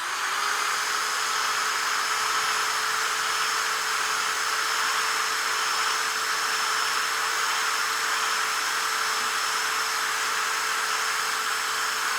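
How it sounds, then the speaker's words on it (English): A power drill whines at a steady, continuous pitch for several seconds while removing rust from a metal mace, running without pause and with no talking. "run this drill right on there"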